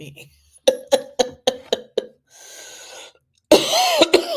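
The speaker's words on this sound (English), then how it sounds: "I keep coughing because my throat's like." A run of six sharp coughs in quick succession, close to the mic, followed by a breathy rasp and then a louder throat-clearing cough with voice.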